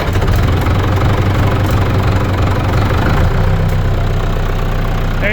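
A farm tractor that has been plugged in all morning fires up and settles into a loud, steady diesel idle with a knocking, chugging rhythm heard up close, with no voices.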